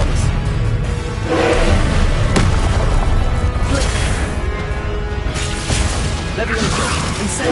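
Spells cast in a Hogwarts Legacy duel trial, including a disarming Expelliarmus charm, crackle out as loud whooshes, bursts and booming impacts in a dense, continuous barrage over background din.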